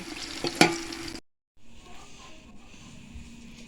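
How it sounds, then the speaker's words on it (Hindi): Chicken fries in a pan while a utensil clatters sharply near the start, then a cut to quieter, steady sizzling. "अब हम चिकन को इतना इसमें फ्राई करेंगे कि इसका कलर चेंज हो जाए"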